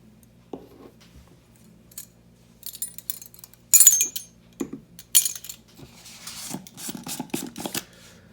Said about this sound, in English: So I'm going to start off with the salt. Half a cup of salt.